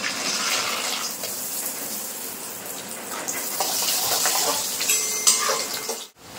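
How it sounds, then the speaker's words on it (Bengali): Peanuts fry in hot oil in a kadai, giving a continuous close sizzle with scraping stirs and rustling, which ends in a clatter and sudden drop. "এখানে নিয়েছি 1 বাটি চীনাবাদাম, ভেজে নেব। কড়াইয়ের ভিতর দিয়ে দেব।"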